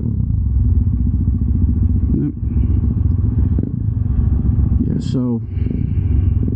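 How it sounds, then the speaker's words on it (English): A dirt bike rides up nearby on a hillside, its engine a steady throbbing rumble close by, with a brief clatter and a short spoken phrase over it. "Someone's coming up here on a dirt bike."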